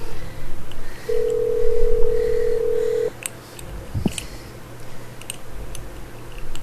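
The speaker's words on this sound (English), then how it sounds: "So we're dialing." Telephone dialing tones placing a conference call, a steady tone followed by short tonal beeps at moderate loudness over background noise, with no talking.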